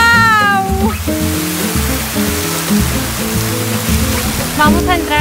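Water of the Tolantongo river rushes down small cascades in a loud, steady roar, with music and a faint melodic tone layered over it.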